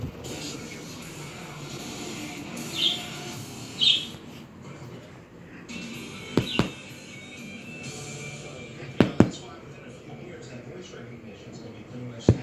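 A pet bird gives a few short, high chirps, spaced apart and fairly faint, inside a room, with a person talking at times and a few sharp clicks and knocks.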